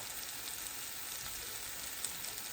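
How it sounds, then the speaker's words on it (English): Pork chops sizzle in a hot pan with butter, a steady close hiss and crackle that holds at one even level throughout, with no talking. "I'm making the pork chops right now"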